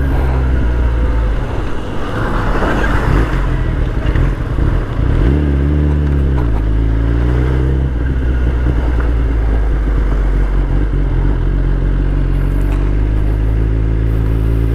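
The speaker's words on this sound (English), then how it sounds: "The Jawa, being an adventure motorcycle, just went over the pothole ridden roads as if nothing was there to retake the lead" Jawa adventure motorcycle riding at speed over pothole-ridden roads, a steady loud engine drone with wind rush, a brief rise in revs and clatter partway through, continuous and close throughout.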